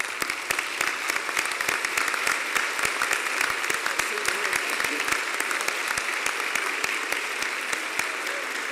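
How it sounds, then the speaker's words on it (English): Sustained audience applause for the queen mother at a college chapel forum, dense steady clapping from a standing crowd filling the whole stretch without a break. "give this queen mother a round of applause"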